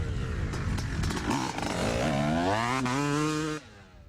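A motocross motorcycle brakes into a corner, then accelerates out of it, its engine revving up in a rising, loud, close whine before cutting off abruptly at the end.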